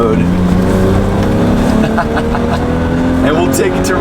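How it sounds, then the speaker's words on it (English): A 1993 BMW M5 Touring's engine pulls steadily and loudly from rolling throttle toward its 7,000 RPM red line in second gear, a continuous rising drone with road noise and a voice speaking over it. "And we'll take it to red line."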